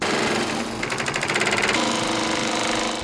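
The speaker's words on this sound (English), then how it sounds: "What starts as a fabric is then sewn." An industrial sewing machine stitches layered ballistic fabric for police body armor vests in a factory, running with a loud, fast, steady mechanical chatter throughout.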